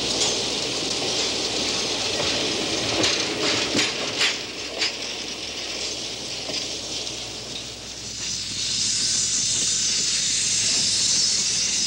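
A steam locomotive at a railroad museum hisses steam in a loud, continuous broadband rush, with a few sharp clicks early on and the hiss swelling stronger near the end.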